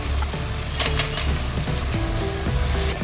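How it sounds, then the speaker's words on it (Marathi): Paneer and pea biryani mixture sizzles loudly as it is sautéed in a pan, with crackling frying and scraping stirring strokes throughout, close up and with no talking. "आणि पुन्हा याला चांगले परतून घेते"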